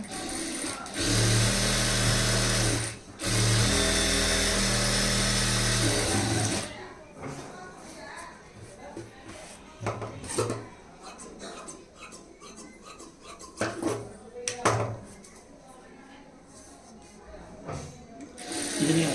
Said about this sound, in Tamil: லைனிங் கிளாத்தை ரைட் சைட் திருப்பிட்டு லைனிங் கிளாத்து மேலே மேல் தையல் போட்டுருங்க.